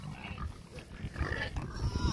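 Low snuffling grunts from a pig near a water bucket on a farm, fairly close and continuous, over a rough outdoor background.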